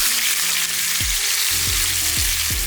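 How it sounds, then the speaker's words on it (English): Loud, steady sizzling of steak frying in a hot cast iron skillet, a dense crackling hiss with a few soft low thumps, close up. "this is what you should hear when you place your steak down on the pan."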